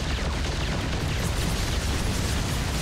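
A Battlecruiser warps in during a StarCraft II grand finals match, a dense, continuous roar of rumbling booms and crackling bursts that fills the whole stretch at steady loudness.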